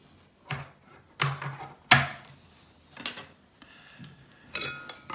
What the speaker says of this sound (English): Open the tin of oranges.